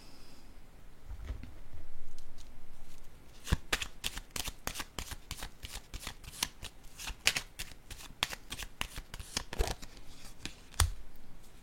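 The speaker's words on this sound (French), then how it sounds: "Je vais déposer une carte ici." Playing cards are handled and laid down on a table, giving a run of crisp, close slaps and flicks in quick irregular succession after a soft rustle.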